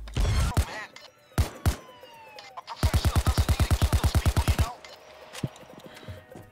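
Gunfire from frag rounds in the game Payday 2: a few heavy separate shots, then a fast, loud, even burst of about fifteen booming rounds, with scattered thumps and faint game noise afterward.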